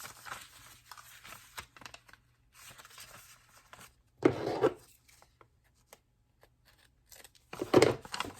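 Scissors snip through paper while trimming a page for an autumn-themed junk journal made from Amazon packaging; two short, close bursts of cutting stand apart amid quiet rustling and handling.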